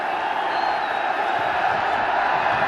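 Cricket stadium crowd at a Nepal versus USA World Cup League 2 match, a steady, dense roar of massed voices and cheering that holds evenly throughout without a break.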